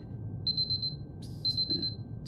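Alarm clock in the video game Superliminal ringing in two bursts of rapid, evenly pulsed high beeps, about four pulses each, over a low background hum.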